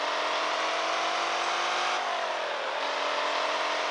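A Tofaş car in the mobile game Car Parking revs hard, its engine droning loud and continuous with the pitch rising, easing and climbing again, and no talking over it.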